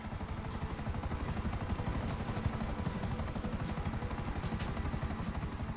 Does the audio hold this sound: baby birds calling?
no